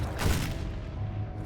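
A giant tank in a robot video game fires a single heavy shot down into the ground, a loud booming blast that fades into a low rumbling tail.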